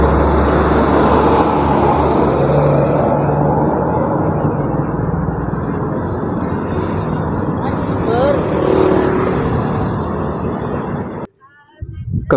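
A Tegal–Purwokerto bus passes on the Klonengan flyover within steady, loud traffic roar of engines and tyres, with faint voices under the noise before a brief drop near the end.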